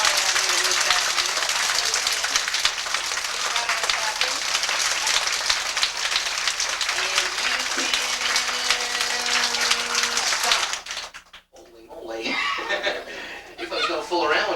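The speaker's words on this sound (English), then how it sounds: "your hands as loudly as you can, keep right on clapping" A large audience at a summer reading program in a small-town library claps loudly and continuously for about ten seconds, with chuckles mixed in. The clapping then stops abruptly, leaving faint murmurs and a little laughter.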